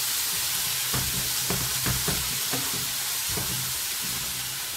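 Onions sautéing in a pan until golden, a steady loud sizzle and hiss with occasional stirring scrapes in a regular rhythm, close up and with no talk.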